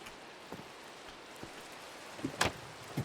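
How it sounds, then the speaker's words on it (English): Rain falling in Minecraft, a steady soft hiss of drops with scattered light patters and a few sharper splashes, moderately quiet with no voices. "And it's still raining."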